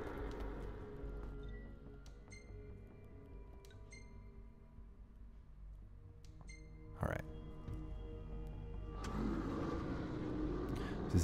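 A car driving in Final Fantasy XV, fitted with a turbocharger: a low, steady engine drone that swells near the end, with a brief whoosh midway.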